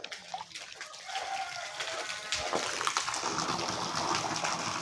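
Rain-fed water rushes along a stream near the Kallata waterfall, a broad steady hiss that swells louder after the first second and carries on without talk.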